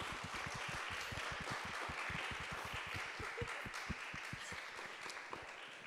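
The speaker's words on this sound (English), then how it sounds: "Please give them a round of applause." An audience applauds the speakers at an event, with steady, moderately quiet clapping of many hands sustained throughout.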